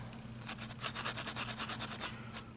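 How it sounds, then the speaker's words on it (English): An old toothbrush scrubs a freshly soldered circuit board from a CNC motor controller kit, giving a close run of quick, rhythmic bristle strokes with no talking. "just clean it up with an old toothbrush"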